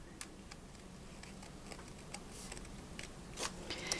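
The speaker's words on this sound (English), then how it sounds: "Then I'm going to take my paper scissors and cut this out on the drawn line." Paper scissors snip along a drawn line, cutting out a paper pattern for a kraft-tex scissor sheath, heard as faint, sparse, irregular clicks close by in a quiet room.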